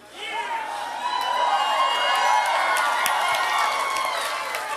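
Large election night crowd in Maryland cheering and shouting together, a dense, loud swell of many voices with scattered clapping that holds steady for several seconds.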